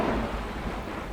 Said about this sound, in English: But it started raining faster